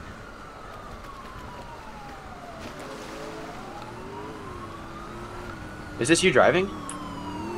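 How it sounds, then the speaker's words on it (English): Police sirens wail as they approach, a steady rising and falling tone running under traffic noise and a voice asking a question, with a loud burst near the end. "I hear sirens. Yep, they're coming towards me."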